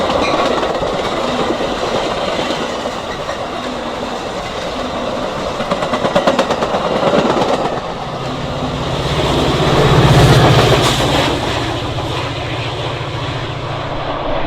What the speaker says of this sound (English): This would appear to be a Metra Express. One of those next trains that will not